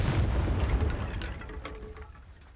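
Confringo spell explosion in the Hogwarts Legacy video game on PS4, a single loud booming blast that rolls off into a fading rumble with faint game effects trailing behind.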